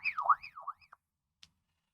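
A BaoFeng UV-82HP handheld radio's alarm wails through its speaker in a short rising and falling warble, clear and fairly quiet, then cuts off, with one faint tick afterward and silence.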